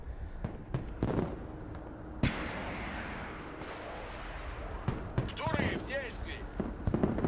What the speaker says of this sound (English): we're going to redirect the artillery to that building